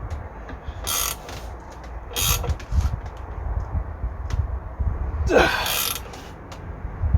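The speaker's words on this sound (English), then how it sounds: "Just to keep the socket square on the bushing as we start to wind it." A socket tool winds against a rear wishbone bushing on a 2004 Audi A4 B6, giving loud bursts of ratcheting clicks and mechanical grinding in a few separate pulls, close to the work.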